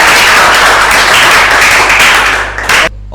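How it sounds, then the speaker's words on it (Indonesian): An audience applauds for Leo at an evening sharing event about surviving the 2018 Palu earthquake and liquefaction, a steady dense clapping that carries for nearly three seconds before cutting off abruptly. "Kasih tepuk tangan untuk saudara Leo"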